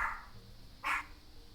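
Two small dogs give two short yappy barks, one right at the start and another a moment later, moderately close in a quiet room.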